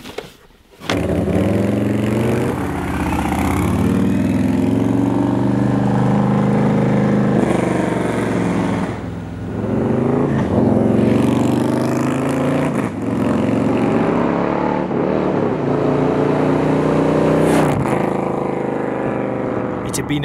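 Harley-Davidson RSD Performance Bagger motorcycle riding downhill on winding mountain roads near Palomar Mountain, its engine a steady low rumble with shifting pitch through corners, close and continuous, overlaid by someone talking.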